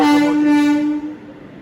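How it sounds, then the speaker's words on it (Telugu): A train horn sounds loud and sustained as a train with ICF coaches enters Kazipet station, the steady tone fading away after about a second. "అటు సైడ్ ఏదో ICF కోచెస్తో ట్రైన్ అయితే లోపలికి ఎంటర్ అవుతుంది"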